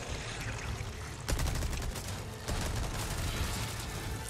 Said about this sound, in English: Let's go machine gun